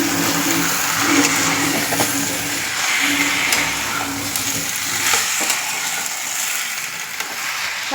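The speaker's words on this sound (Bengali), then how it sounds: "এদিকে দিয়ে দিলাম মাংসের আলুগুলো, ভেজে রেখেছিলাম মাংসের আলুগুলো দেওয়া হয়ে গেল" Fried potatoes stirred into chicken curry cooking in a pan: steady loud sizzling and frying with scraping stir strokes throughout.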